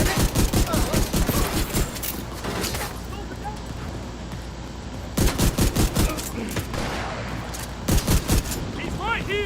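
Rapid bursts of gunfire from the Division 2 video game, loud and close, with clustered volleys at the start, again around the middle and near the end, and a steadier, quieter rumble of combat between them.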